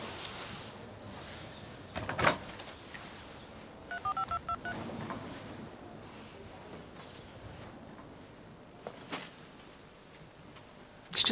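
Touch-tone telephone keypad beeps as a number is dialed, a short run of evenly spaced tones near the middle, with a few clicks and faint room noise around it.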